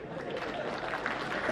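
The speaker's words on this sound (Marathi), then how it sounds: "तुम्हाला तो कळला त्याच्याबद्दल परत टाळ्या वाजवा." An audience at a Marathi public talk by Namdevrao Jadhav breaks into a short, even burst of crowd applause that lasts under two seconds.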